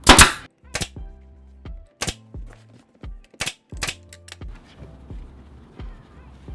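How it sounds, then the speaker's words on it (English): A staple gun fires staples through upholstery fabric into a wooden chair frame, several sharp, close snapping clacks spaced irregularly with softer handling noises between them. "I'm just gonna come and staple this edge and then go around"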